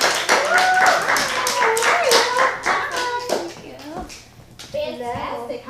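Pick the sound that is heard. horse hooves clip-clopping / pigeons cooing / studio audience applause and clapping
studio audience applause and clapping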